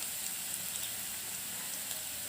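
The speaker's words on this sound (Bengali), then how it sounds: "এইভাবে পেঁয়াজটা যদি ভেজে নেন" Chopped onions sizzle steadily in a frying pan for a dish of scrambled eggs. The hiss is bright and continuous, close up, with no voices.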